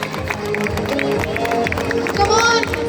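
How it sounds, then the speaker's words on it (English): Parents clapping and cheering at a pre-primary school sports day during a ring-and-stick race, scattered applause and crowd noise beneath a speaker on a loudspeaker and children's voices. "Dear parents, give a round of applause to encourage them."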